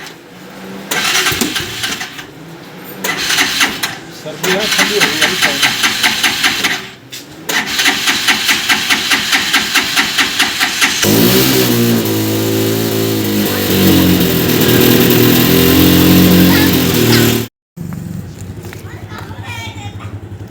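A motor vehicle engine starts and runs with a steady rhythmic putter, then revs harder as it pulls away, loud and close, while someone speaks over it.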